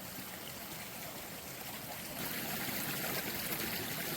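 A creek flows steadily where it meets the Etowah River at a historic gold mining site, a continuous broadband rush of running water close to the microphone that grows slightly louder partway through.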